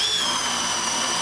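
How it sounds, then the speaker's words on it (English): Milwaukee 12V drill bores a 5/8 spade bit through a 2x4 in drill mode, a loud steady high whine under load, brief and continuous. "5/8 spade bit through a 2x4 on drill mode."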